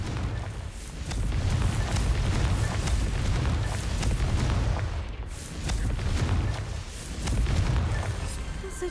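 Deep, rumbling blasts from the Confringo fire spell in Hogwarts Legacy roll through in two or three long, heavy waves, loud and close, with a brief gap between bursts.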